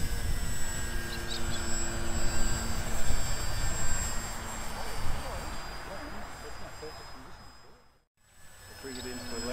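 A foam-board RC trainer plane flies overhead with a thin, whining motor drone that rises and falls as it passes, with wind noise, a brief dropout, then the whine returning near the end.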